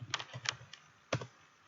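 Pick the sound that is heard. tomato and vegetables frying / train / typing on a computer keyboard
typing on a computer keyboard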